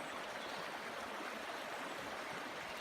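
Clear water flows at an old mill site in Glasgow, a soft, even rushing hiss that stays constant and faint, with no voices.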